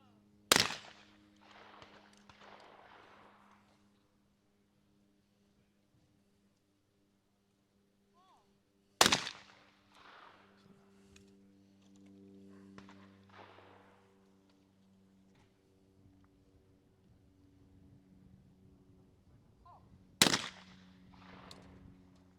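Shotguns fire at clay targets during a women's ISSF trap final outdoors, three sharp isolated reports spaced several seconds apart, each followed by faint trailing echo over quiet low hum.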